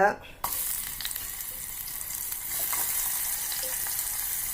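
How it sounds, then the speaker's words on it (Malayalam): Dried fish drops into hot coconut oil with a quick thump, and a loud, bright sizzle bursts up at once, then settles into steady crackling spatter close by. "ഉണക്കമീൻ ഇടുക"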